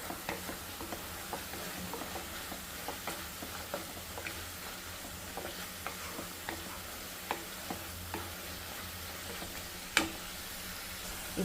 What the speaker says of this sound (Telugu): సో ఇప్పుడు ఇది పచ్చివాసన పోయే వరకు వేపి ఆ రైస్లో కలిపేద్దాం